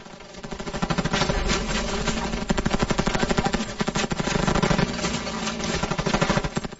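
Rapid automatic gunfire after a command to fire, a dense, fast rattle of shots that runs continuously and loud, with slight surges and dips.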